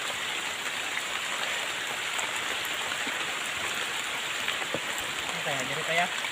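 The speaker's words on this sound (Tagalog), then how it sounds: "Lumakas yung ulan." Heavy rain pours steadily in a rural outdoor setting, a dense continuous hiss of drops close by with no break.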